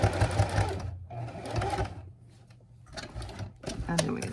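A sewing machine stitches a seam on a zipper pouch in quick rattling bursts, pausing briefly between runs, close and loud, with a person talking over parts of it.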